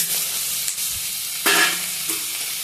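Onions fry in an oiled pan for a spicy tomato chutney, a close, steady hiss of sizzling with brief louder bursts as the pan is stirred, no voices present.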